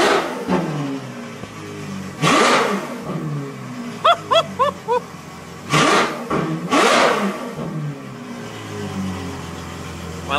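A Ferrari F12 Berlinetta with a catless Fi exhaust revs hard from idle, roaring in loud swells with a quick string of sharp throttle blips between them, close and otherwise alone.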